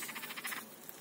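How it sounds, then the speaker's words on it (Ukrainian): A short run of rapid, pulsing frog croaks, evenly spaced and moderately near, fading out toward the end. "Це жабиськи тут."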